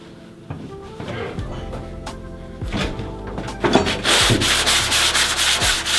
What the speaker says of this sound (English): Electric sander.